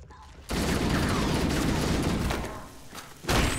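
Grenades explode in Halo: Combat Evolved as a loud, sustained roar of blasts lasting a couple of seconds, then a brief lull and another sudden burst, all close and dense.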